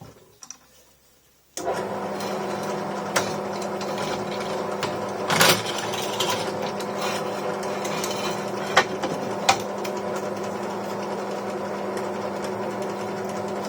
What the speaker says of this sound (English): we'll just finish off drilling these holes